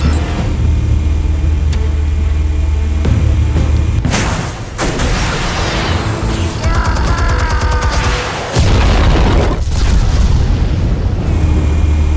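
Explosives going off in the Batman Telltale Series game: a loud boom bursts in around the four-second mark, followed by rumbling debris and crackling, then a second heavy impact, all over a low droning backdrop.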